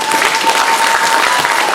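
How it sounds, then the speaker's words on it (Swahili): A church congregation clapping together, a dense burst of loud, close applause that fills the whole moment. "Hebu tunaojifunza pamoja tupigie Yesu makofi mazuri."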